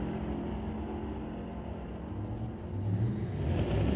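A Camaro drag race car at a door-car drag racing qualifying event accelerates down the strip, a steady loud engine roar that swells toward the end, heard from a distance with no talk.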